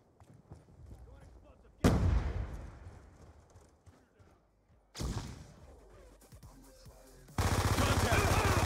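Frag grenade blasts in Call of Duty Black Ops II multiplayer: sudden loud booms with decaying rumble strike at intervals among clattering gunfire, ending in a sustained roar, with game voices faintly in the mix.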